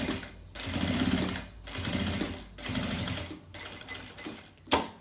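A sewing machine runs in several bursts, stitching a seam along each side of a travel toiletry bag, with short pauses between the fast, rattling runs and a sharp knock at the end.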